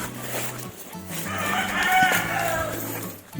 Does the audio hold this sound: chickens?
yes